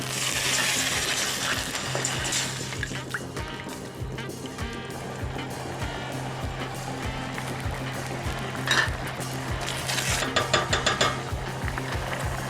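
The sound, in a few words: water added to the pork ribs curry pot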